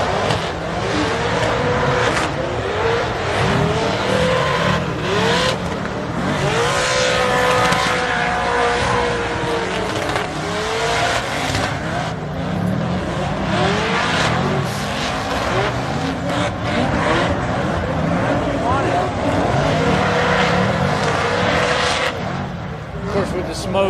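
Cars drifting at the LS Fest East 2025 hot rod event, engines revving and wailing across a smoky track, with rising and falling tones and a steady crowd-and-announcer murmur of talk underneath.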